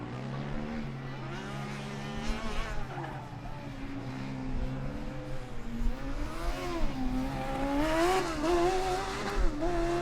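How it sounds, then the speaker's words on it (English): Race car 61's engine revs at an endurance event, its pitch rising and falling in repeated climbs that grow louder toward the end, heard against a busy track background. "the engine of car 61 has just been revved up"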